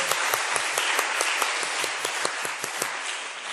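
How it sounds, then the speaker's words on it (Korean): A church congregation at a Korean Wednesday service applauds for a school class, a short round of brisk clapping with distinct individual claps over a soft, steady bed. "박수하겠습니다."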